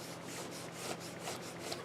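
A glue rubber is rubbed back and forth over a craft album page to lift off excess glue, producing a rhythmic soft scrubbing with about five strokes, close and quiet.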